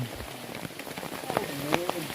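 Soft patter of rain on a surface under quiet background murmur, with a few sharper drips and taps standing out near the end.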